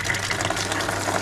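Hot water from a sealed heating system rushing through a newly opened radiator valve, a brief steady gushing and trickling flow, close and continuous, no speech.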